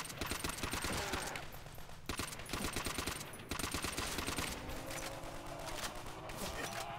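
Rapid automatic gunfire from enemy zombies in a Call of Duty custom zombies map, loud and continuous with dense bursts and brief pauses, with game sounds layered over the shooting.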